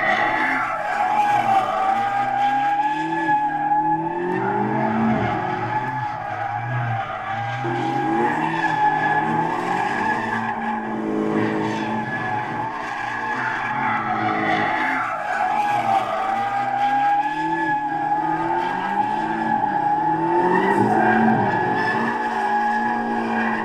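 A BMW M5 holds a long power slide, its tires skidding and squealing steadily under a loud, revving engine that rises and falls for over twenty seconds.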